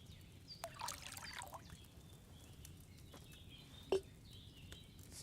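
Wine poured from a pitcher into a cauldron in a video game, a light trickling pour with a few sharp clicks and a faint bird-like tone in the background.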